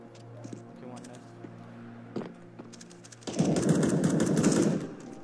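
Gunfire in the video game CS:GO: a few sharp isolated shots over a steady hum, then a loud, dense burst of rapid fire near the end.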